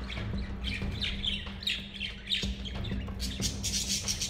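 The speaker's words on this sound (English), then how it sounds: "let my level 1 tamed budgie go out of the cage" A tame budgie out of its cage in an unfamiliar room gives chirps and squawky calls throughout, fairly close, over a steady low hum.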